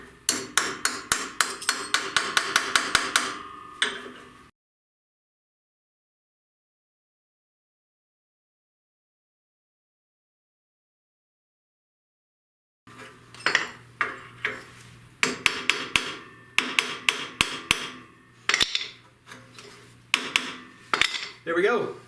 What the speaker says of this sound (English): we're just going to tap these in with a hammer